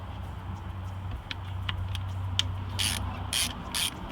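A socket ratchet clicks steadily as it works a bolt on the valve cover of a Mercedes-Benz ML320, a quiet close-up series of rapid pawl ticks with a few sharper metallic bursts near the end.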